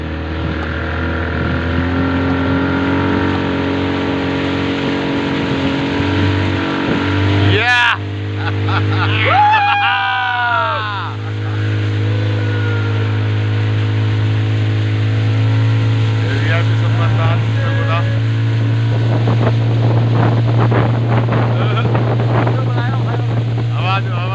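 A motorboat's engine drones steadily on open water throughout, with wind buffeting the microphone and a brief spell of people talking near the middle.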